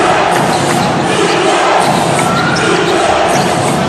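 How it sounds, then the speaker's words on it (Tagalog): A basketball arena crowd at an MPBL playoff semifinal between Bacolod and Zamboanga chants defense in a steady, loud, continuous roar that fills the venue. "You hear the crowd here at our venue chanting defense."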